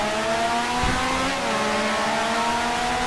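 A 1965-era Formula One race car engine in the Grand Prix Legends racing sim at the South African Grand Prix, a loud, steady high-revving drone with a slight pitch dip and recovery, continuous and close, with no talk.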